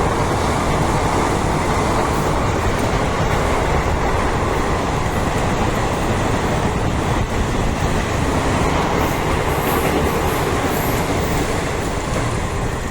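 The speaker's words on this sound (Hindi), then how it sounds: "काफ़ी तेज आती हुई ट्रेन।" A train rushes fast into Annanur station in Tamil Nadu, a loud, close, unbroken roar of rail noise and rumbling wagons that lasts throughout, with faint clatter and no speech.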